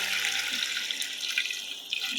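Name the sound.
hot water poured into frying rice for beef biryani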